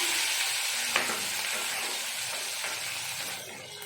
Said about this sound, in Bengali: পেঁয়াজগুলো দিয়ে ভাজা ভাজা করে নিচ্ছি যাতে কালারটা একটু লাল লাল হয়